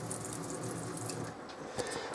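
Water runs steadily from the tap of a 2003 Abbey Inspiration 520L four-berth caravan sink, a continuous close splashing hiss that lasts the whole short moment, with no voices.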